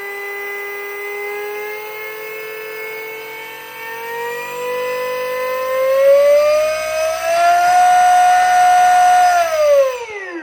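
An electric conversion motor on a Bultaco Sherpa, run from a controller and two batteries, whines steadily, pitch climbing slowly and then rising harder before dropping sharply as the throttle is released; loud and close, no talk.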